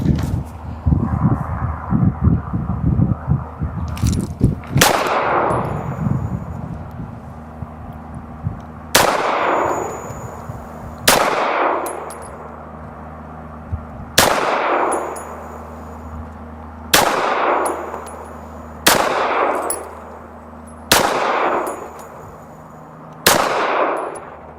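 A Mac 9 DS 2011 pistol fired outdoors: after a few seconds of voices, about eight loud, evenly spaced gunshots ring out, each with a sharp crack and a lingering echo.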